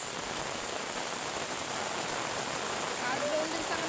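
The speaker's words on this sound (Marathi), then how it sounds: "आता आला पाऊस" Rain falling outdoors during a walk in the Konkan countryside, a dense even hiss of heavy rainfall filling the whole stretch without pause.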